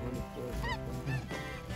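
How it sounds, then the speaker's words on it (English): Snow geese honk in flight above a goose-hunting spot, with several nasal calls overlapping against a constant background hum of the flock. "the snow geese are just covering us up"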